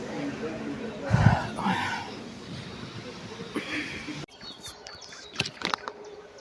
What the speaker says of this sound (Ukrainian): Як співають пташки.